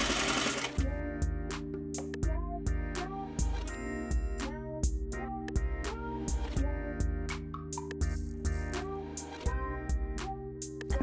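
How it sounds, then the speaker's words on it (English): A sewing machine stitches a pocket facing onto trouser lining fabric around all four edges at a 1/4 inch seam allowance, running in steady bursts with brief pauses between stitching runs, close and clear with no talking. "now we're going to sew the pocket facing in place using a 1/4 inch seam allowance"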